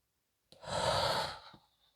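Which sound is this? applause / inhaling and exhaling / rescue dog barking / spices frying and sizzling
inhaling and exhaling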